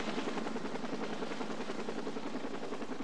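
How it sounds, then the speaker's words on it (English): A medical care-flight helicopter arrives, its rotor throbbing in a continuous, fairly faint thudding wash with no voices over it. "the medical chopper arrived to transport her to the hospital"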